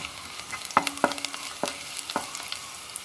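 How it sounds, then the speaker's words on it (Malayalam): Masala paste and shallots sauté in oil, giving a soft continuous sizzle broken by several distinct scraping stirs of a spoon against the pan. "നന്നായിട്ടൊന്ന് ഇളക്കി വഴറ്റിയെടുക്കാം."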